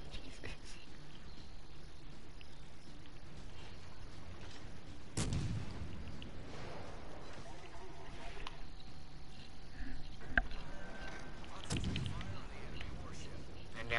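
Naval guns firing in the video game World of Warships, two or three heavy booms spaced several seconds apart over a steady ship and sea ambience, with occasional voices.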